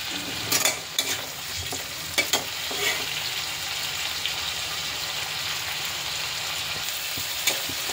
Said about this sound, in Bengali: কাঁচা লঙ্কা দিয়ে দিচ্ছি, খুন্তি দিয়ে ফাটিয়ে দিয়ে দিই